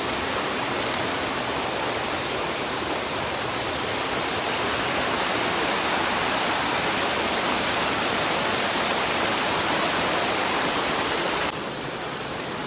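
The waterfall at Tangerine Falls on a hiking trail roars as a steady, loud, broadband rush of falling water, unbroken for the whole stretch with no voices over it.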